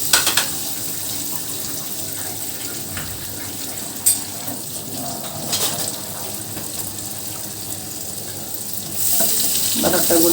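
Butter, about half a cup, melting and sizzling in a hot pan for a white sauce, a steady soft crackling hiss with a few louder pops and a rise in sizzle near the end.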